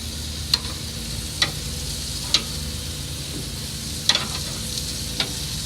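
Zucchini and burgers sizzle on a Char-Griller 980 grill: a steady, even frying hiss broken by five sharp, separate ticks or clicks, with no talking.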